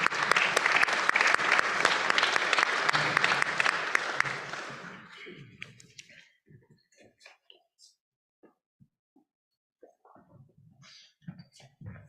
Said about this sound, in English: And we'll give him a quick applause.